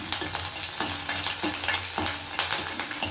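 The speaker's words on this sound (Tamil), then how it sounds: "இது வந்து பூண்டு வதக்கிட்டேன். அதுக்கப்புறம் வந்து ஃப்ரெஷ்ஷான கருவேப்பிலை வந்து கொஞ்சம் போட்டுக்கலாம்." Fresh curry leaves crackle and sizzle in hot oil with sautéed garlic in a pan, a steady close frying hiss with stirring scrapes recurring through the few seconds and no voices.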